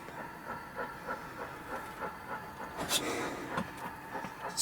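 Model Black 5 steam locomotive with onboard sound running on a layout track at speed step 12, giving a regular rhythmic chuffing with hiss and a couple of sharp higher squeals or whistle bursts.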